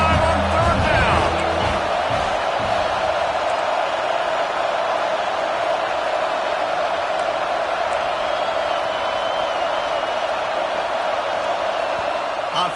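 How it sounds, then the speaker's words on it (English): A large Ohio State home crowd roars steadily at a Michigan versus Ohio State football game on third down, with a broad sustained din and some louder shouts early. "The Buckeye crowd alive on 3rd down."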